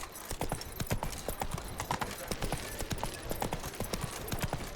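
Horse hooves galloping at a steady clip-clop rhythm in The Witcher 3, close and continuous, with faint game ambience underneath.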